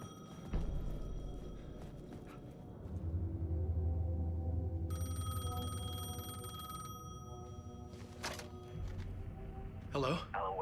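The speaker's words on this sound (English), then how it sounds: "The payphone was ringing." A payphone in Alan Wake 2 rings in short trilling bursts over a dark rumbling ambience, with scattered clicks and knocks and a louder crack near the end.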